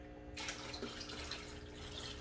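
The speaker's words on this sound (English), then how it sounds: "so the next thing I will do in here is actually pour this starter bacteria culture" Starter bacteria culture, brushed off live rock, poured into marine aquarium water: after a brief quiet moment, a steady splashing pour begins and continues, close and unbroken.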